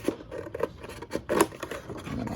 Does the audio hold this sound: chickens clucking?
no